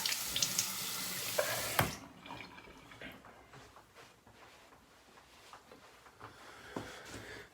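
Tap water runs loudly into a sink while a shavette razor is rinsed under it, then stops abruptly, leaving faint drips, clinks and handling noises.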